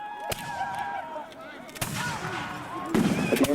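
Musket volleys crack out in an 1812 battle reenactment at Mississinewa near Marion, Indiana, with several sharp, loud shots spaced through the clip over a steady crowd-and-field murmur, the last blast followed by scattered firing.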